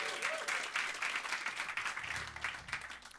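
A small studio audience at a live radio session applauds after a performance. The claps sound close and loose, with a few whoops and a low rumble near the end.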